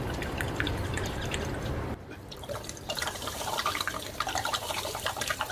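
Water gushes and splashes out of a spinning bottle in a steady stream, close and continuous, with bubbly gurgling throughout and no talk.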